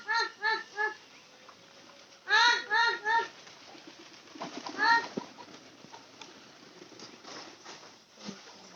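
Soft, repeated pigeon coos come in short bursts of two or three, with people talking quietly and shuffling noises in between.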